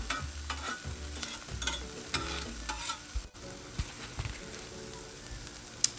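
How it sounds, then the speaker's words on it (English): Vegetables sizzle on a 22-inch Blackstone griddle as a spatula repeatedly scrapes and stirs them, producing soft crackling under irregular metallic scrapes and taps at close range. "you just want to stir them up a little bit"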